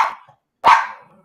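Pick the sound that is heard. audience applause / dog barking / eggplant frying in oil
dog barking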